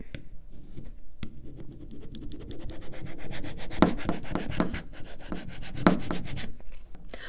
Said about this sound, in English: Then I'm going to burnish it again with a squeegee.